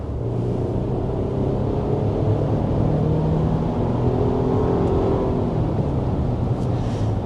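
A 2026 Nissan Armada SUV with a 460-horsepower engine accelerating hard, heard from inside as a loud, continuous low engine rumble and rising drone mixed with road noise, steady for several seconds with no talking.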